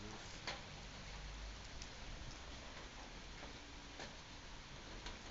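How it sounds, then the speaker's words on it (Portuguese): Gentle rain patters on plants outdoors, a soft steady hiss with a few sharper drops ticking through it, fairly faint. "Aí, ó, a chuvinha abençoada."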